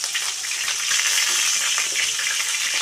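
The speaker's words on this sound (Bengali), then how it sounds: "মাছটা তেলের উপরে দেওয়ার সঙ্গে সঙ্গে অনেক ফুটছে, তেলটা ছিটকাচ্ছে" Boal fish fries in hot, spattering oil, giving a dense, loud, continuous sizzle with crackling pops close by. No voices.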